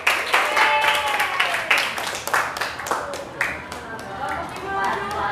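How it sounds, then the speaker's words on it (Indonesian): A classroom of students applauds Iqmal, giving scattered, uneven claps with distinct individual hand slaps that come close to the listener, while voices talk underneath. "Tepuk tangan dulu buat Iqmal."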